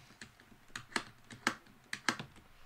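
Keys on a computer keyboard are pressed during a video game, a sparse run of about six or seven quiet, close clicks in uneven rhythm, with no talking.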